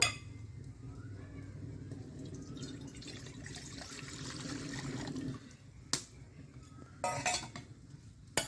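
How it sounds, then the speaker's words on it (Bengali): A metal wok set down on a stove, then water poured in, a steady close splashing stream followed by sharp clanks of cookware near the end. "কড়াটা বসিয়ে দেব ওই কড়ার মধ্যে জল দিয়ে দেব"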